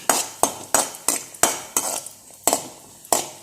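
Vermicelli (shavige) frying in a pan for payasa, heard as sharp metallic clinks of a spatula against the pan, about eight strikes in a steady, fairly loud rhythm with little sizzle beneath.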